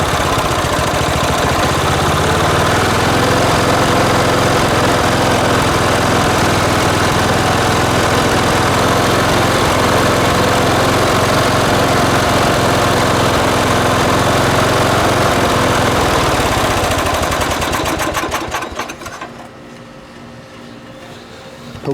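A John Deere ride-on mower engine runs loud and steady at idle, a continuous close-up drone that cuts off near the end, leaving quieter background.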